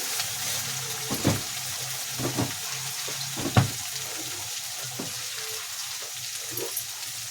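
Onions fry in a pan for vangibath with a constant close sizzle. Several dull knocks and scrapes from stirring land at irregular intervals over the hiss.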